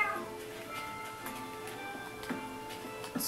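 A cat meows repeatedly in the Minecraft video game, with several short, clear meows spread across a quiet background and no talking.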